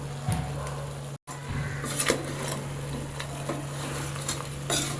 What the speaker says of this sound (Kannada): ಇವಾಗ ಇದಕ್ಕೇನೆ ಸ್ವಲ್ಪ ಚಿಲ್ಲಿ ಪೌಡರ್ ಹಾಗೆ ಧನಿಯಾ ಪೌಡರ್ ಹಾಕಿ ಮಿಕ್ಸ್ ಮಾಡೋಣ